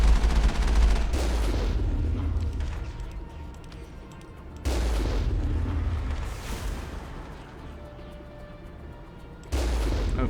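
Gunfire in the video game Uranium Man, including a sniper: three heavy booming shots spaced a few seconds apart, each with a long rumbling decay, set against an ongoing game soundscape.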